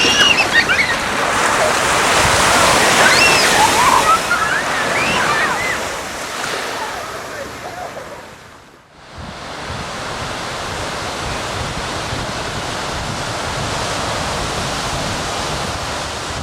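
Surf washes onto a beach on the Central Coast, a loud broad roar of breaking waves that swells and eases, dips briefly near the middle, then settles into a steady rush.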